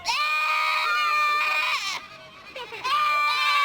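A baby goat bleats repeatedly up close, loud wavering cries broken by a brief pause before another long bleat.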